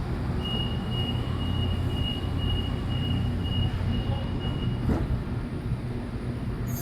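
A City Circle train pulls out of a Sydney station, a continuous low rumble and rolling noise with a faint high whine running through it.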